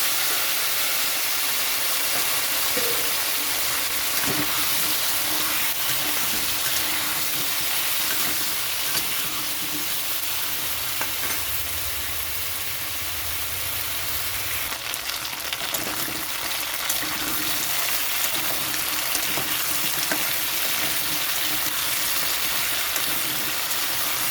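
Carrots, taro and potatoes fry together in a pan, giving a continuous, fairly loud sizzle and hiss with light stirring scrapes and no talking throughout.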